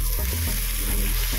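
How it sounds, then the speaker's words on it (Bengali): Ground cumin, Kashmiri chili and turmeric powders fry in a pan for stuffed potato curry, sizzling close up with short scraping stir strokes and a steady crackle. "ভালো করে মেরে নেব যাতে মশলাটা ভালো মতো ভাজা হয়ে যায়।"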